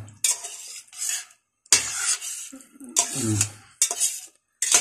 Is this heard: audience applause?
no